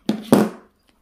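Scissors cut through a long strip in two quick, close snips, the second one louder and longer, followed by quiet.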